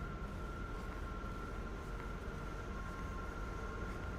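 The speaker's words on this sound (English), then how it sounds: "we are gonna wait for the train" A train rolls into Mount Dennis station in Toronto, a steady low rumble with a faint high tonal whine, heard from a moderate distance and constant throughout with no talk.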